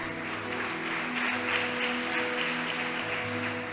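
Church congregation clapping for the Lord during a sermon, a steady, even wash of applause throughout, with sustained musical tones ringing underneath.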